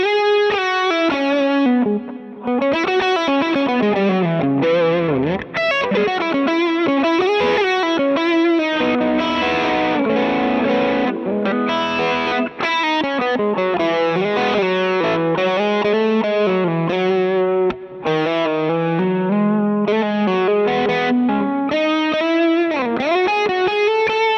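An electric guitar plays distorted chords and melody with a shimmering, swirling chorus effect, loud and sustained.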